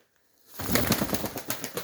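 A white pigeon in a dovecote gives a sudden close burst of rapid fluttering, rhythmic pulses after a moment of near silence.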